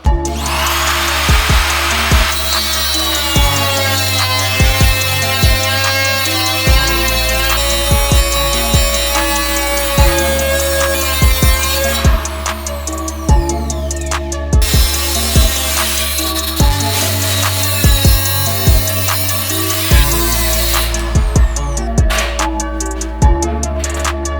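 A power tool cutting metal from a Dodge Charger bumper during wide-body kit preparation, loud and close, with a continuous high grinding whine broken into bursts as the tool bites, stops and restarts several times.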